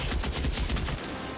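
Rapid gunfire from the video game L.A. Noire rings out as a loud burst of repeated shots in quick rhythm for about a second, then stops and leaves a brief noisy tail.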